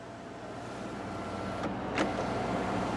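Power sunroof on a 2016 Chevrolet Silverado High Country 2500HD diesel sliding open inside the cab, a steady soft motor whir with a brief click near the middle, close and alone.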